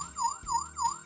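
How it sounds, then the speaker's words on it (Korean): A baby's toy car key plays an electronic alarm siren, a rising and falling wail repeating three times in quick succession, clear and close with no talking. "경보음 같은 것까지 다양하게 버튼을 만들어놨고요"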